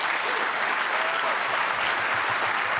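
Steady applause from a lecture audience at the 17th Annual Barbara K. Olson Memorial Lecture, dense and sustained at even loudness with no break.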